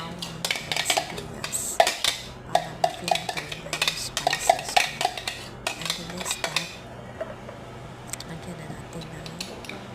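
A minced meatball mixture with onion and garlic is stirred and mashed in a bowl, giving repeated clinks and scrapes of utensil on dish in an uneven rhythm, close and moderately loud.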